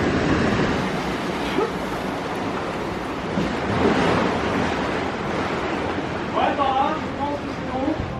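Sea waves washing on the shore of the Jeju Island coast in Korea, a broad rushing surf mixed with wind buffeting the microphone, with voices talking toward the end.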